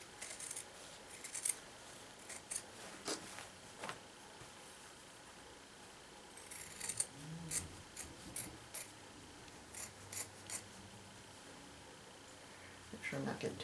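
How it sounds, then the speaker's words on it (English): Scissors snipping through the fabric backing of a cross-stitch piece, a quiet series of short rustling cuts in bursts, with soft handling noise between them. "I'm just going to keep cutting here."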